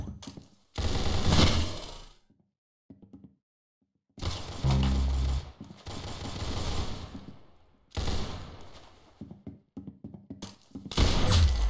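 Rapid bursts of gunfire from a Free Fire match, several loud volleys of shots separated by short silent gaps, close and punchy with no talking over them.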